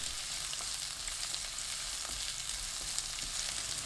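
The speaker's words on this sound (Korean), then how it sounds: "팬에 올리브유 2큰술, 양파 넣고 센 불로 1분 볶습니다." Sliced onions stir-fry in two tablespoons of olive oil in a pan over high heat, giving a steady close sizzle with faint stirring scrapes and no speech.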